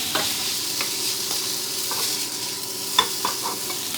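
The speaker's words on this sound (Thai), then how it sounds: "ผัดให้ข้าวกับมาร้อนจับดีนะครับ" Rice is stir-fried with egg and nham, a sour Thai pork sausage, in a hot pan. A steady close sizzle runs under light scraping and tapping from the spatula, with no one talking.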